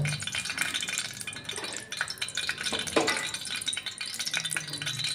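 Hot oil spatters and crackles in a pan while fenugreek chicken gravy is cooked, a dense, close sizzle with occasional clinks and stirring rattles, no talking.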